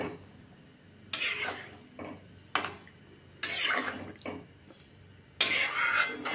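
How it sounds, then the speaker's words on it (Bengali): Food in a pot is stirred and mixed in four separate loud bursts of scraping and sloshing, with quieter pauses between them. "এখন আমি ফ্লেমটা বাড়িয়ে দেব, ভালো করে নাড়াচাড়া করে মিশিয়ে দেব সবটা"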